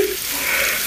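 Leftover food toasting in a pan until crunchy, a steady, soft hiss of sizzling throughout with no pauses.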